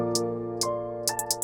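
Electronic hi-hat from an FL Studio drum track, a few crisp ticks spaced out and then a quicker cluster near the end, sitting over a sustained synth pad.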